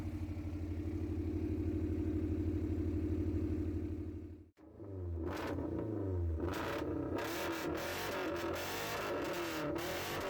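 A Suzuki Vitara 1.4 L Booster Jet engine of 140 hp, fitted in a blue Samurai, runs steadily near the microphone, cuts out briefly, then returns with revving and clatter, with no talk over it.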